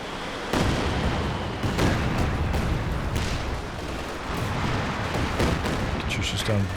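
Katyusha rocket artillery barrage in the World War II strategy game Company of Heroes 2, a dense, continuous roar of rapid explosions and launch bursts, loud and sustained across the whole stretch, with a voice talking underneath.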